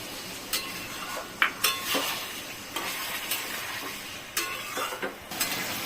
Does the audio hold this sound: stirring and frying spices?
yes